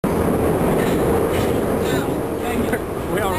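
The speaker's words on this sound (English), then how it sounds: "We are on the subway" Close, loud rumble of a Moscow subway car in motion, wheels clattering on the rails with a brief squeal, and faint voices under the din.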